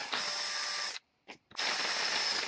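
A power drill grinds loudly through plastic in two bursts, separated by a brief pause with a short whir between them.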